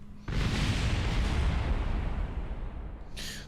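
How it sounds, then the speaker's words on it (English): A loud, sustained rumbling blast of rocket explosions in Kerbal Space Program, starting abruptly and roaring continuously for about three seconds before a brief higher crackle at the end. "I heard a lot of explosions"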